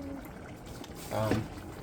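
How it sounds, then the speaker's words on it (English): Palm oil is poured into a pot of African cassava leaf stew, a brief soft splash and trickle of liquid near the end over a steady kitchen background, fairly quiet and close. "Grab the palm oil and pour some of that in because you want it to have some grease."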